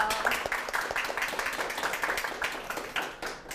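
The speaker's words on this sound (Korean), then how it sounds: "박수 부탁드릴게요." A lecture audience claps after a talk, producing a brief, moderately faint burst of applause that fades within a few seconds.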